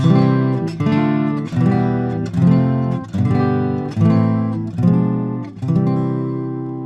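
Eight strummed guitar chords ring out one after another at an even pace, stepping up a scale, each left to sustain briefly.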